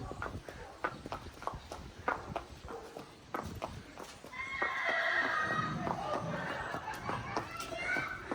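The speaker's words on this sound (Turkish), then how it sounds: "Defne korktu Yusuf At'ın sesinden galiba" Horses neigh and hooves clip-clop at a horse farm, the steady hoof steps running throughout and a loud whinny rising in the second half over outdoor background noise.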